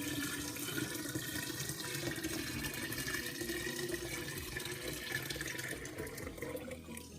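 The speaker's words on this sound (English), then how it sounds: "I just pour it into my container." Water being poured into a container while making naturally fermented ginger beer, a continuous quiet splashing and trickling pour that holds steady and thins slightly toward the end, with no talking.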